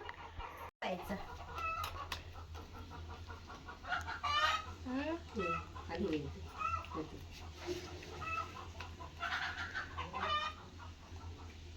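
Several chickens cluck and squawk in irregular bursts nearby, with a few louder calls, over a low background hum.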